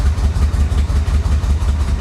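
A 1985 Chevy Corvette engine idles roughly, a loud, close low rumble with an uneven, pulsing beat that keeps stumbling throughout.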